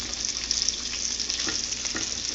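Meat fries in a pan over the stove with a constant light sizzle and crackle, plus a few soft pops and stirring knocks, heard up close and without talk.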